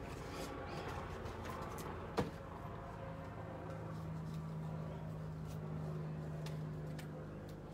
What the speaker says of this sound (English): Stirred up all the birds.